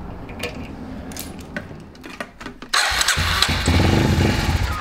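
A motorcycle that has sat unused for a while cranks and fires up after a fuel prime, with clicks and cranking attempts giving way at the midpoint to a loud, steady running engine, close by.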